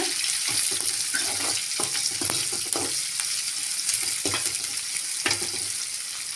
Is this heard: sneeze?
no